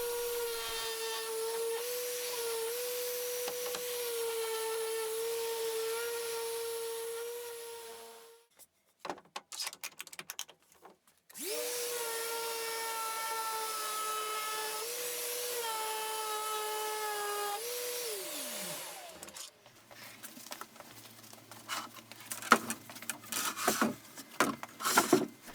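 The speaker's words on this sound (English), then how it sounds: "With the glue set, all the shelves get a thorough sanding to clean up the edges" A power sander works over the glued edges of large wooden shelves, a steady whirring drone that stops briefly and then resumes, followed by rougher scraping and rubbing on wood with no talk.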